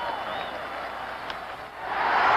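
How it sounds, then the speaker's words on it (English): A baseball stadium crowd at an Orioles game buzzes with a steady wide roar, swelling louder toward the end with scattered applause and cheering, no nearby voices. "This crowd really buzzing right now"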